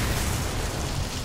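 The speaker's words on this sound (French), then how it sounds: "il y a l'explosion" An explosion in the video game Dishonored, a dense, loud, rumbling boom that fills the whole moment with broadband roar and no talking.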